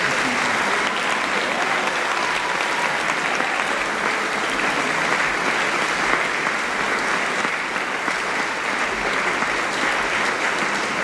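An audience at a school opening convocation applauds steadily to welcome new staff members, a dense, even wash of clapping that holds at a constant level for the whole stretch with no voices over it.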